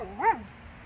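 A dog gives a single short bark-yip with a rising then falling tone, close by and fairly loud, over a quiet indoor background.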